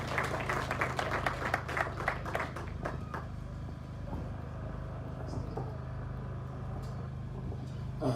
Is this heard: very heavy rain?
no